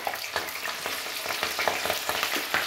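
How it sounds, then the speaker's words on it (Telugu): Broad bean seeds crackle and sizzle in a hot pan, a steady fry broken by sharp pops and the scrape of stirring, close and moderately quiet. "ఇప్పుడు సీడ్స్ కూడా ఫ్రై చేసుకోవాలి."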